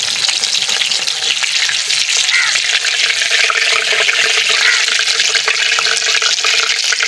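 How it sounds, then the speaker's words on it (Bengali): Chicken mince cutlets fry in hot oil with a loud, continuous crackling sizzle, steady and close throughout. "কাটলেটগুলো উল্টে পাল্টে ভালো করে ভেজে নিয়েছি।"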